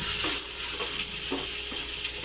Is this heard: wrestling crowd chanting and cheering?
no